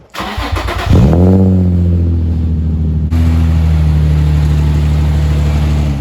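Car engine starting up and settling into a steady, loud idle rumble while the car is backed out of a driveway, a brief rev at the start, no voices.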